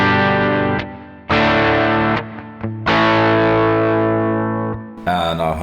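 Electric guitar on its neck pickup with a split humbucker, run through a pedalboard of effects: sustained distorted chords that ring out, pause and return, with a brighter strum at the end, loud and alone.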